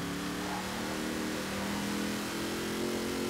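A Mercedes G-Wagon engine in Forza Horizon 4 holds a steady, even drone at moderate volume, a continuous hum with no sharp revs or gear changes.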